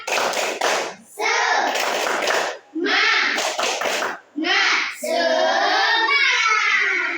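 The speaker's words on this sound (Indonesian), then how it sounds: "Oke, tepuk semangat." Children clap a rhythmic 'tepuk semangat' ice-breaker in a classroom, sharp bursts of clapping alternating with short pauses and chanted voices, ending with a sung, chant-like phrase.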